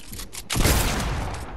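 A brief, loud crackle of gunfire in a video game shootout bursts in after a moment of quieter noise and sustains as a dense rattling volley.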